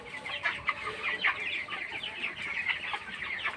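Broiler chickens around 23 days old cluck continuously inside a poultry shed, a dense chorus of overlapping clucks and calls from a nearby flock with no voices.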